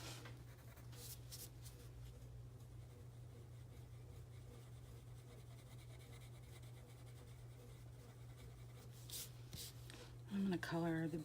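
Steady, soft scratchy scribbling of colored pencils on paper, continuous and close, with a low hum underneath and a few louder clicks near the end.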